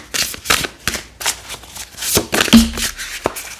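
Tarot cards being shuffled by hand for a reading, a run of quick riffling bursts and soft slaps close up, repeated in an uneven rhythm.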